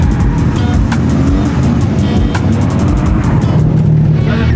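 A drift car on track at Ebisu Circuit in Japan, heard from inside with a loud, continuous engine drone and rapid rev fluctuations, steady and close throughout.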